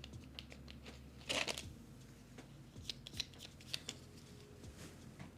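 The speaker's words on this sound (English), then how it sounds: "So I'm going to shuffle these to the best of my ability" Board game railroad tiles being shuffled by hand, quiet clicks and scrapes in irregular bursts with a brief louder clatter near the start, close and faint.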